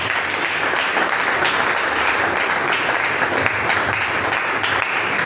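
Church congregation applauding during worship, dense, steady clapping from many hands filling the room for several seconds, loud and even without breaks.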